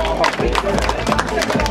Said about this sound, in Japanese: ほら拍手。